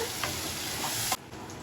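Ground jackfruit pulp is stirred into payasam in a pot, making a soft, wet hiss with light scraping that stops abruptly partway, leaving a quieter background.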